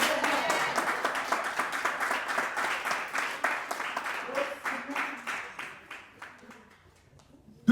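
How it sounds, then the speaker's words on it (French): A congregation at a French-language sermon gives a round of clapping, many distinct claps at first that thin out and fade over several seconds, with a voice talking under it. "Bah, mon Dieu, un applaudissement"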